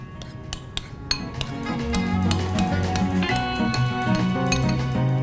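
A spoon stirs a mixture seasoned with salt and coriander for a bitter melon dish, producing repeated close, bright clinks and scrapes against a bowl over a steady tonal background.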